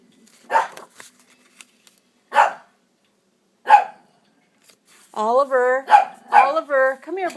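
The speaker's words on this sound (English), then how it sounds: "he wants to play with my other dog and causing a ruckus" A dog barks in short, sharp single barks spaced apart, then a quicker burst of yelping, whining barks at the end, fairly close in a quiet indoor room.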